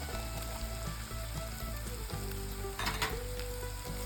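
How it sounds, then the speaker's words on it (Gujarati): Chopped onion and ginger sautéing in ghee, a dense steady sizzle close by over a constant low hum, with a brief stir or scrape midway and no talking. "અને સાંતળી લઈશું ઘીની અંદર"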